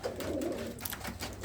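Red Cheena pigeons in a Pathankot loft coo softly, a low rolling burble repeating for a moment at modest distance, fairly faint and with no talk over it.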